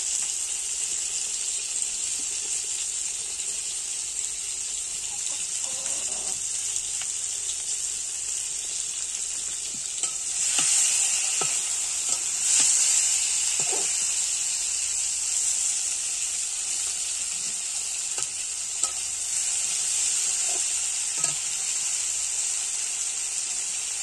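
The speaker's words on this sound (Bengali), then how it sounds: "বেগুন ভাজা" Eggplant slices fry in a pan with a steady, soft hiss that carries through the whole stretch, briefly louder in the middle, with faint clinks of a utensil now and then.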